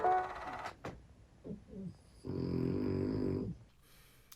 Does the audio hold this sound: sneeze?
no